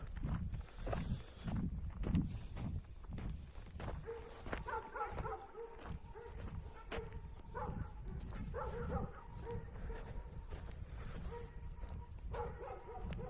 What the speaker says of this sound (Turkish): Orada havlayan da kupayla Poyraz